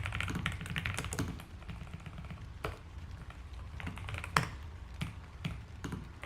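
Steady typing on a computer keyboard while writing web app code, with irregular soft key clicks and a few sharper taps, close and moderately quiet over a low background hum.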